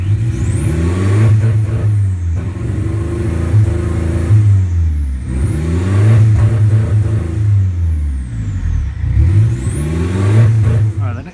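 A Land Rover Freelander diesel engine with a faulty crankshaft sensor runs rough, surging and falling in three repeated rev attempts that never climb cleanly, loud and close throughout.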